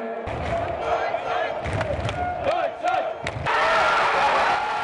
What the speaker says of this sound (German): frenetischer Jubel im weiten Rund, ein Feuerwerk der Emotionen